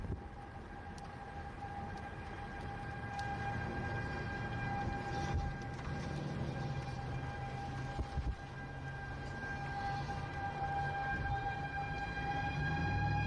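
Steady, droning tornado warning sirens wail from a distance, a sustained eerie tone holding over faint background rumble with no talking, west Lubbock, about a mile east of a tornado's rotation.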